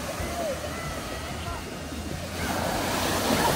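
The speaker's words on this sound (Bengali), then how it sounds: "ভালো আয়ান ঢেউ টেনে নিয়ে যাবে কিন্তু ধরে পিছায়" Waves rolling onto the northern shore of Lake Erie in Ontario, a continuous close wash of surf with wind noise, swelling slightly louder toward the end.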